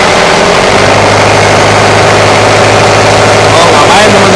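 A diesel car engine that has just had its EGR valve cleaned roars loudly and steadily up close, held at high revs with a slight rise near the end, while a voice talks over it.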